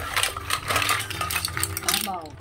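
Mussels clattering into a metal cooking pot for a mixed seafood dish with squash, a quick run of hard shell clinks and rattles close by, with a voice talking through it.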